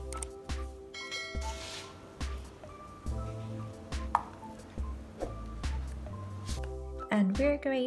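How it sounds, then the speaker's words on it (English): Red cayenne chilies and garlic cloves are chopped into small pieces with a knife, giving a series of close, sharp thuds on a board, mostly steady with short pauses, under a speaking voice. "Chop into small pieces as well."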